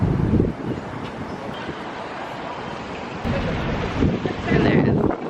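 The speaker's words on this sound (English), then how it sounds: "It's also windy." Wind buffeting a microphone at a high observation point in Shanghai, a steady loud rushing roar with gusts swelling near the start and end.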